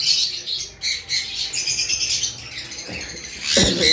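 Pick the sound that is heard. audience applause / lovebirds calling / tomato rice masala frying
lovebirds calling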